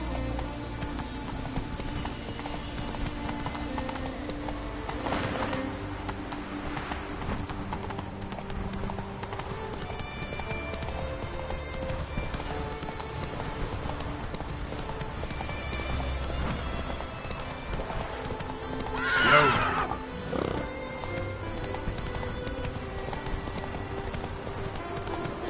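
Roach the horse gallops in The Witcher 3, with a continuous clip-clop of hooves under a busy game soundscape and one brief, louder neigh-like burst near the end.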